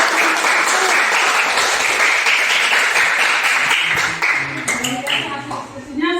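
A classroom of students applauds a discussion group with dense, loud clapping that holds steady, then thins out and fades as voices start up near the end.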